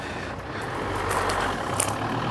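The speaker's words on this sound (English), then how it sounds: "We are testing the towing capacity of the Volvo" The engine of a Volvo XC70 runs under load while towing a barn-find MGB that has sat for 22 years, heard as a rough, steady rumble with rising noise and a few brief sharp knocks; no talking.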